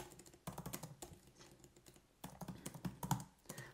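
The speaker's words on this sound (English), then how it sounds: "I'm gonna type in Canary Capital Rentals" Close, rapid typing on a computer keyboard comes in two quick bursts of clicking keystrokes, separated by a short pause.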